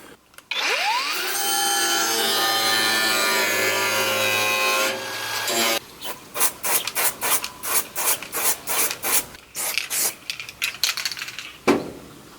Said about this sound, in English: But I'm gonna cut it so it follows that line.